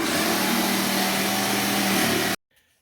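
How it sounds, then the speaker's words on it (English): A jigsaw cutting a shape out of birch plywood roars steadily and loudly up close for over two seconds, a dense buzzing whine, then stops abruptly into near silence. "I take a jigsaw and I cut the shape out"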